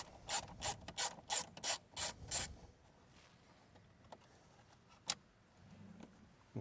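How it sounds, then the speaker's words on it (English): Seven-millimetre bolts on the third brake light of a 2019 Ford F-150 are loosened with a ratchet, giving a quick burst of about seven close clicking pulls followed by quiet handling and a single sharp tick. "Now that's going to expose the two 7mm bolts here that we need to loosen up."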